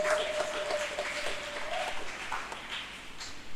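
A church congregation claps for Jesus during a Swahili sermon, a dense, moderately loud patter of many hands that carries on steadily throughout.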